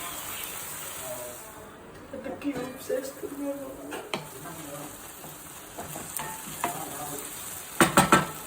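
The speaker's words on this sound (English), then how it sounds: "So now cook for 10 minutes until the tomatoes get soft." Tomatoes cook in a pan for paneer bhurji with a soft, steady sizzle, broken by a few clattering stirs and a louder scraping burst at the end; a voice talks over part of it.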